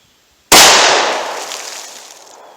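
A single sharp .45 ACP+P pistol shot fired into water jugs cracks loud and close, then trails off in a long, fading echo.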